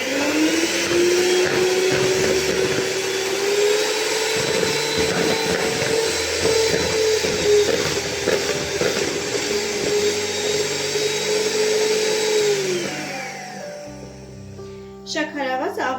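An electric mixer whirs steadily as it beats eggs with a pinch of salt for a chocolate chiffon sponge cake, its loud, continuous motor drone holding for about thirteen seconds before stopping.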